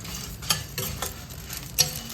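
Clams being stir-fried in a pan for a Mangalorean sukka, soft sizzling under repeated scraping and stirring clinks of a utensil, close and moderately loud.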